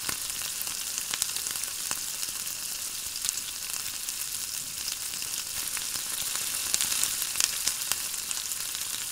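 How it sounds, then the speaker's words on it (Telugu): Curry leaves crackle and sizzle in hot oil in a pan of ridge gourd milk curry, a steady moderate hiss broken by small pops and utensil taps as the mixture is stirred. "అందులోకి కరివేపాకు వేసుకుందాం. ఇది బాగా ఒకసారి కలుపుకొని"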